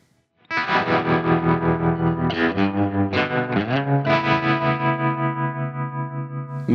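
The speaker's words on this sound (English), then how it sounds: "So this is what the tremolo sounds like." A distorted electric guitar plays sustained chords with a rapid, regular pulsing in volume, a wobbling tremolo throughout.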